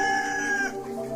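Desi chickens on a poultry farm, with a clear high drawn-out call over steady harmonic clucking that carries on alone, fairly close and moderately loud.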